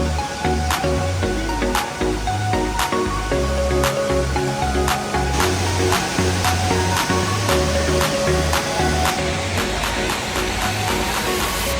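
Khlong Lan waterfall, where visitors get soaked, gives a loud, steady rush of falling water that fills the whole stretch, with tonal music-like sounds running underneath.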